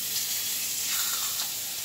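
Seasoned meat searing in a hot frying pan, giving a steady close bright sizzle and hiss throughout with no voices.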